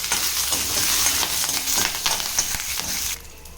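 Oil sizzles and crackles steadily as green chillies and curry leaves fry for chutney, a loud, close spitting hiss that drops off sharply near the end.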